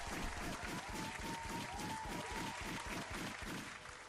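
Applause with clapping and cheering from a crowd, a dense steady wash with a rhythmic thumping beat underneath, continuous and fairly loud throughout.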